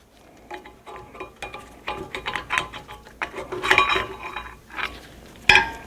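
Worn-thin front brake pads are pried out of a Honda Accord caliper, giving close metallic clicks, scrapes and rattles in an irregular series with one sharp clank near the end.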